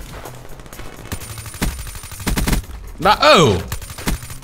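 Rapid bursts of automatic gunfire in Black Ops 3, loud and close, in several short clusters with a sharp sweeping effect midway, while a player talks between shots.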